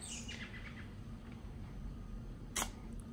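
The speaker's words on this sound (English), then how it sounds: "Birds and squirrels in my yard making lots of noise." Birds chirp faintly in a backyard, a few high thin tweets early on and one sharp brief call later, distant over a steady low background hum.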